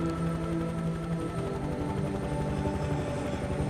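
A video-game helicopter flies steadily, its rotor producing a continuous, loud, low rhythmic chop with a constant engine drone and no talking.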